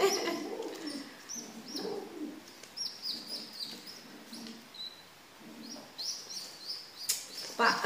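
Pigeon chicks begging for food make repeated thin, insistent chirps and peeps in short bursts, with soft coos now and then, close by and fairly quiet over steady room noise.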